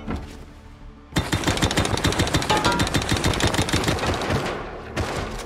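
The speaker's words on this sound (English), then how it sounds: "Oh, I have a jackhammer. I'm breaking beds." Jackhammer breaking beds in the video game Rust, a loud rapid mechanical hammering that kicks in abruptly and rattles on steadily for several seconds before easing off, with no talk over it.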